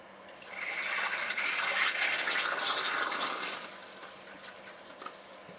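Water rushes steadily through cheap garden hoses feeding the cooling circuit of an old Lexel 85 argon ion laser, a continuous hissing flow that swells after half a second and eases toward the end.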